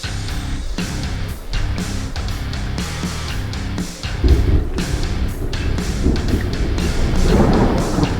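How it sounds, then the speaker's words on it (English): Heavy thunder rumbles and rolls continuously, loud and deep, swelling midway into a stronger crackling roar with rain-like hiss, in a truck simulator game. "Thunder, like you've never imagined."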